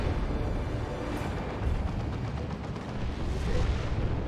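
A rocket run strike in Dawn of War 2, in a Space Marines versus Imperial battle, brings a dense barrage of booming explosions and rumbling artillery-like impacts, loud and continuous with no talking.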